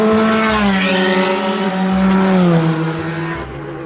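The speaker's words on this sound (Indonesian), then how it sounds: "Ini mobil balap listrik." A muddy electric toy race car drives close by, its motor whining loudly in a rising, then falling, pitch before fading slightly at the end.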